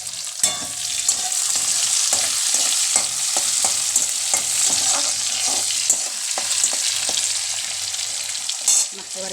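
Tomatoes and chillies sizzle and fry in a pan for khichuri while a spoon stirs them, making repeated scraping clatters over a steady close sizzle.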